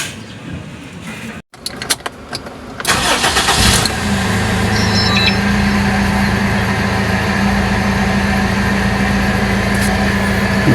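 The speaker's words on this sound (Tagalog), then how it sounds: "Naka Toyota Revo, nag-i-start na yung sasakyan ko." Toyota Revo after repair of a burnt starter solenoid: a few clicks and a brief starter crank, then the engine catches and settles into a steady, loud idle that continues to the end.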